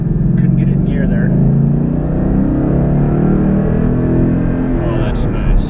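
A 2012 Ford Mustang GT 5.0 V8 pulls hard from inside the cabin, its deep, steady engine drone rising under load with no let-up across the clip, while a voice speaks briefly at the start.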